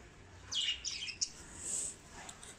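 Birds competing for scattered food in the morning give short high chirps and tweets in quick scattered bursts, moderately close over a faint background hiss.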